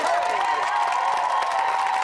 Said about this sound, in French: Je veux qu'on leur donne un tsunami de tendresse OK, oui. via les applaudissements.